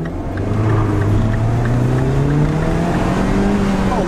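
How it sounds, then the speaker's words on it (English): A new turbocharged MINI Cooper accelerates hard onto a highway, its engine note climbing steadily under loud road and wind roar, heard from inside the cabin. "that turbo kicks in, you get that whoosh"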